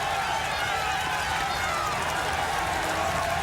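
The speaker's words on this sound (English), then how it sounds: "You cannot get bigger crowds than this on Mont Ventoux." A huge roadside crowd on Mont Ventoux at the Tour de France roars continuously as riders climb toward the summit, a dense, loud, unbroken wash of cheering and shouting close by.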